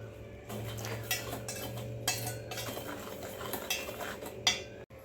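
Powdered sugar and semolina being mixed in a bowl for a mango rava cake, with a spoon scraping and tapping against the bowl in a steady stirring rhythm, close but quiet, over a faint background hum.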